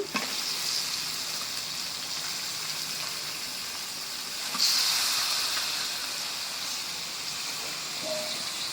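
Meat dropped into hot oil spiced with cardamom, cinnamon and bay leaf gives a steady, even sizzle, swelling a little louder midway and then settling, with no voices over it.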